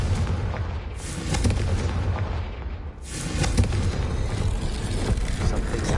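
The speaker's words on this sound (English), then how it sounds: "Confringo." Confringo explosive spell cast in the video game Hogwarts Legacy, a loud sustained roar of booming blasts that briefly dips before a second rumbling burst continues to the end.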